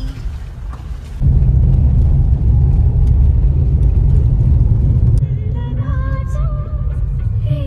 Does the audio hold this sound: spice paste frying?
no